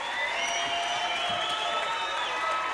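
Steady applause and crowd noise from an audience at a comedy show fill the short stretch evenly, a dense wash of clapping without distinct individual claps.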